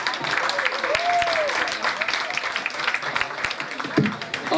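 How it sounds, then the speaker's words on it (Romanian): A crowd applauds a performer at an outdoor positive-day event in Sibiu, a dense, continuous patter of clapping. A voice speaks over it and a brief tonal sweep cuts through near the start. "Aplauze încă o dată pentru Simbol!"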